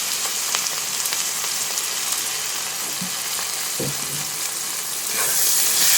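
Chopped onions frying in oil in a pan for onion chutney, a steady close hiss of sizzling with a few light clinks of a utensil against the pan.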